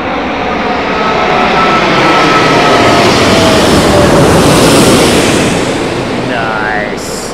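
A jet airliner passes low overhead on arrival at Heathrow, its loud engine roar swelling and sustained across the whole clip, with a faint whining tone near the end.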